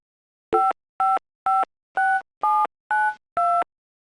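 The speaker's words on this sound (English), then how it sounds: "A number is dialed and transmitted." Seven evenly spaced touch-tone beeps from a telephone dialing a number, each a short, clean, steady tone burst with brief gaps between, close and clear with no voices.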